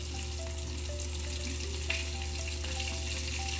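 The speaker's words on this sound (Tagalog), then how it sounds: "Ayan, pangalawang prito ko na to" Chicken wings crackle and sizzle steadily in hot oil during their second deep fry, a continuous bubbling hiss with a faint mechanical hum underneath and no talk.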